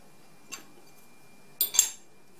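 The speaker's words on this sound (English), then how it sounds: "So we'll tighten the vise and tighten the collet." A milling vise and a collet are tightened on a milling indexer setup, giving a short metallic clink followed a second later by a louder cluster of clanks and rattles close by, with no talking.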